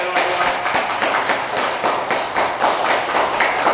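A group at a yoga day practice session claps loudly in a fast, even rhythm, the strong beats repeating close and steady from start to finish.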